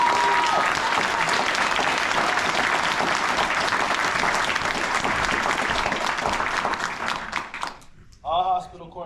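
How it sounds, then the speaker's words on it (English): Sustained applause from a crowd at a hospital corpsman graduation ceremony, a dense, steady wash of clapping that fades out near the end before a voice speaks. "Please join me in giving the newest hospital corpsman a round of applause."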